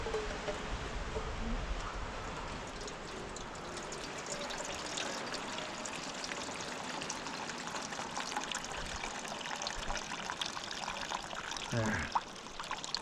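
About a liter of water poured into a cooking pot at an island campsite, a steady trickling pour lasting several seconds over outdoor rustling, ending with a brief clatter.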